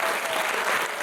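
Dense, steady applause from an audience at a choreographic ensemble's concert, a continuous wash of many hands clapping with no gaps and no talk over it.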